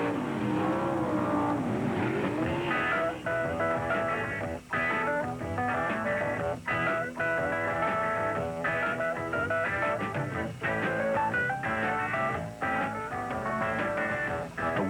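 Drag racing cars roar at Ontario Motor Speedway in 1971, loud engines rising in pitch as they accelerate and rev, a continuous heavy motor sound with sharp gear-change dips and no talk.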